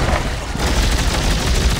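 Rapid gunfire from the video game Dead Space, a dense continuous barrage of booming shots filling the whole stretch with no talk over it.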